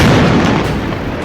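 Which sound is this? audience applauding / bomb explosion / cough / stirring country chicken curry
bomb explosion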